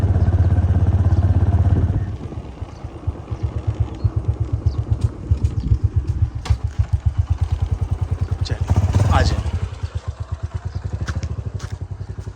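A motorcycle being ridden from a village toward the city on a hot summer evening gives a steady, close engine drone with a rapid pulsing beat and occasional rattles, while wind noise rises and falls.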